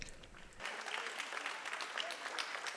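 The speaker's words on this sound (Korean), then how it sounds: "그런데 기쁨, 행복에 이렇게 박수 소리가 작나요?" Audience applause at a multilingual gathering, steady dense clapping that swells after a brief start and continues evenly, moderately close, with faint voices beneath.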